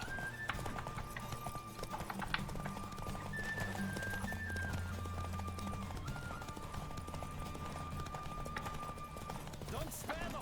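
Horse hooves pound in a steady galloping rhythm during a horse race in the video game Witcher 3, set against tonal game music, with an occasional neigh.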